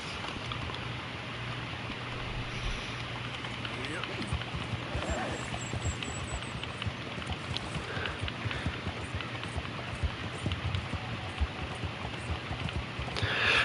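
Horse hooves clip-clopping in Red Dead Redemption 2, a steady galloping rhythm running throughout at moderate level, mixed with rain-like ambience and game background sound.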